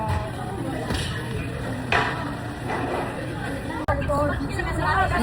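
Busy indoor babble of many overlapping voices in a store, with closer people talking in Tagalog over the constant crowd murmur and occasional clatter.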